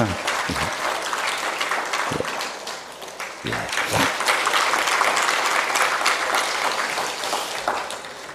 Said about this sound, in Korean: 우리 신랑 신부에게 박수 한번 쳐주십시다